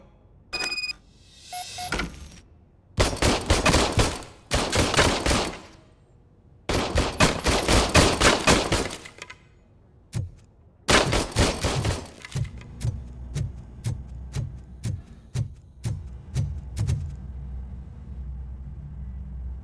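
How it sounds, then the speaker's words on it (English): An old service pistol fires in Robocop: Rogue City, first in loud, clustered bursts of rapid shots, then in a string of sharp, separate single shots close by. "I was issued this old gun and serviced it according to the manual. I will try it out."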